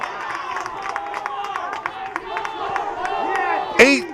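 Crowd at Langhorst Field cheering at a men's college lacrosse game, a steady roar of voices and scattered claps with a sharp whistle-like burst near the end, heard alongside an announcer talking.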